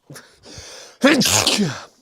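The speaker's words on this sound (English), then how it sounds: "Oh, I need to sneeze as always." A sharp inhaled gasp followed by a loud, close sneeze, with a short breathy buildup before the burst.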